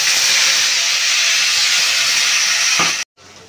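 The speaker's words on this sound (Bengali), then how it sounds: "এবার কালো জিরে আর শুকনো লঙ্কা ফোড়ন দিয়ে দেবো" Nigella seeds and dried chilli sizzling in hot oil, a loud close hiss that holds steady for about three seconds before cutting off abruptly into a much quieter fizz.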